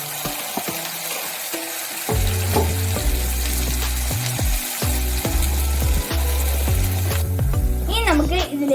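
Ground paste of green chickpeas dropped into a hot pan for chana masala, crackling and sizzling loudly with bursts of stirring and scraping; a faint voice murmurs near the end.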